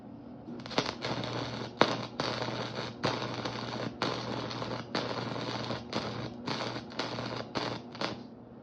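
MIG welding on rebar with the wire speed set too fast, a harsh crackling sputter broken into roughly a dozen short bursts separated by brief gaps, close and loud.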